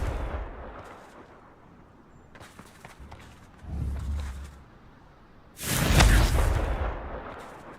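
Confringo fire spell cast in the Hogwarts Legacy video game, heard as a quick muffled burst followed by a louder, booming explosive blast that rolls out and fades.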